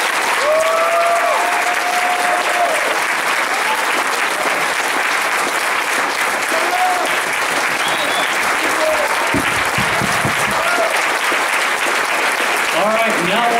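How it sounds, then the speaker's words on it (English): A crowd at a JROTC military ball breaks into sustained, dense applause that carries on steadily throughout, with a few cheers and voices mixed in. "I want you guys to please give him a phenomenal round of applause"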